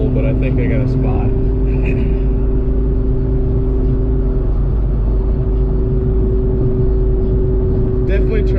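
A torquey little car drives along a road in daylight, its engine droning steadily and close throughout with a constant low hum and road rumble, no pulls or sharp revving.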